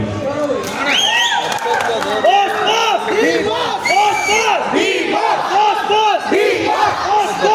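A large crowd at the Ayogya 2 film song release event in Hubballi cheers and chants in loud rhythmic bursts, voices swelling together in repeated rising shouts that fill the space without pause.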